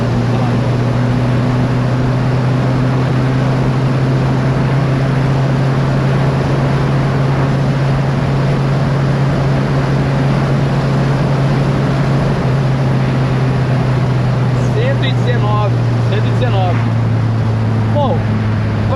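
A steady engine drone with a low hum slowly shifts pitch as an old, stock Volkswagen Passat gains speed, heard from inside, with voices briefly near the end.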